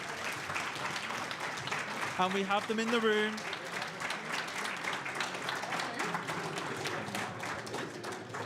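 Applause fills the room at an aviation flight-simulator awards show, steady clapping from an audience while someone speaks over it and brief cheers rise and fade.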